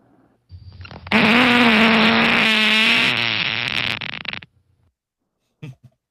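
A recorded fart sound played back from a text message on a phone, one long, loud, buzzing blast lasting about three seconds, followed by a couple of brief faint sounds after a pause.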